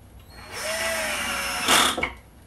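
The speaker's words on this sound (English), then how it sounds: "this tool where you're able to drill the boards at an extreme angle and use the screws to fasten things down" A power drill bores into boards at a steep angle during a DIY entertainment center build, a close whining motor that runs for about a second and then rises briefly before stopping.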